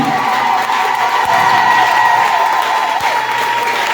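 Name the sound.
church congregation applauding and cheering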